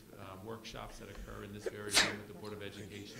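A single loud, sharp sneeze bursts out mid-sentence at a school board meeting in a meeting room, cutting briefly across a man's ongoing speech before his talking continues.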